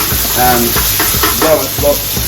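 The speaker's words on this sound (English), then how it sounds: "as long as you've got some sizzle, you're pretty much right" Food sizzles and crackles in a hot pan while someone stirs it, and a voice talks over the frying.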